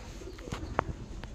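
Kalanka mada pigeon cooing softly, a few short low calls with a sharp bright chirp near the middle, close by against faint background noise.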